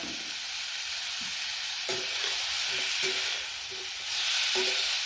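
Bitter gourd pieces fry in a pan with turmeric and salt, a steady close sizzle with a few soft scraping stirs of the spoon now and then.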